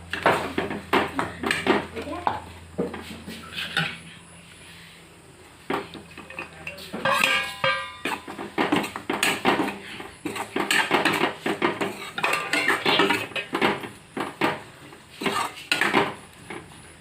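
Chilli pickle with ground spices being stirred in a pan, giving a run of repeated metal-on-pan scrapes and clinks of the spoon, close and fairly loud, with a short quieter gap partway through.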